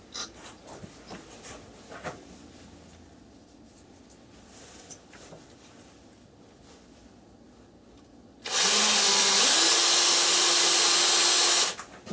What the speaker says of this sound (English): a bit more drilling.